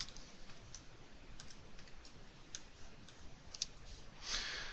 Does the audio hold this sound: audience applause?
no